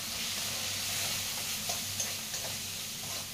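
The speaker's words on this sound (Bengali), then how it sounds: "তারপরে মশলাটা খুব ভালো করে কষিয়ে নেব" Spices for rajma fry in a pan with a steady, close sizzle. A few soft stirring scrapes sound over the hiss.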